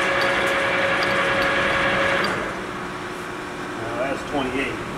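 A 14x30 American engine lathe with a taper attachment runs at a slow 47 RPM, giving a steady mechanical whir with faint ratcheting that softens about halfway through, followed by brief higher chirps near the end.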